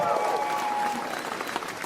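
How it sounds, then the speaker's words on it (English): Dense applause and cheering from a stand-up comedy audience, loud and continuous across the short stretch, with a voice briefly audible near the start. "Round of applause."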